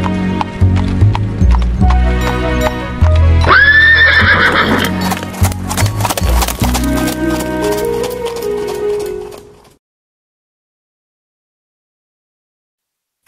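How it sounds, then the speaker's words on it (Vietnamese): In a cartoon, a horse neighs loudly amid music while hooves clip-clop in a steady rhythm. The sound is close and prominent, then stops abruptly and leaves silence. "Nó đúng là một con ngựa kiên cường."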